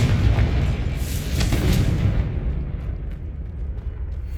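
A Confringo fire spell explodes in the video game Hogwarts Legacy, a loud, deep, rumbling blast that swells and then fades into a low roar.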